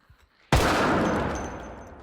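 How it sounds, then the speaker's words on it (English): A sudden loud burst of gunfire in the video game Project Zomboid, with a sharp attack, followed by a long reverberating tail that fills an enclosed indoor space. "The gunshots sound so much more violent in here"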